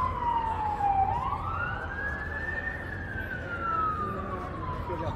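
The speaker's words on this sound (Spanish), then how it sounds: "y hay un camión de bomberos que va allá." A fire truck siren wails in a city street in downtown Toronto, its pitch sweeping slowly up and then gliding back down over a steady traffic rumble, sounding moderately distant and continuous.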